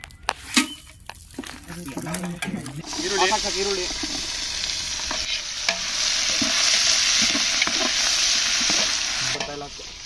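Onion and tomato fry and get stirred in oil with whole spices for a vegetable pulao, a steady loud sizzle with scraping stirs and a few clinks, while a voice talks at the start.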